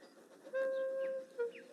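A small tank engine pulls a carriage along a line, a sustained whistle-like tone holding for over half a second, then a shorter second blast, over faint rolling rail noise.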